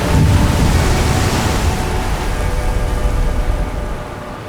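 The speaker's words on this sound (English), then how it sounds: "when you just listen to the sound of the waves" Atlantic waves surge and echo inside a sea cave, a loud rumbling wash of surf that swells at the start and slowly fades, with no voices.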